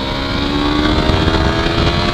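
Yamaha R3 motorcycle engine running steadily while riding at moderate city speed, a continuous close droning hum with a smooth, even tone and no sharp revving.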